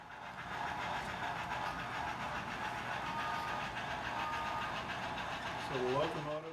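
An HO scale Great Northern model train runs steadily on a layout, a continuous close rumble and clatter with faint squealing tones toward the end, heard alone without talk.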